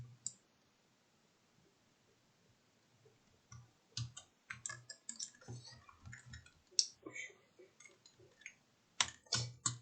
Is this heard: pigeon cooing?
no